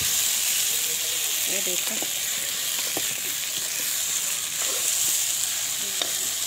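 Cauliflower sabzi with tomatoes frying and being stirred in a pan, a steady sizzle broken by scraping clinks of the spoon, with someone speaking briefly over it.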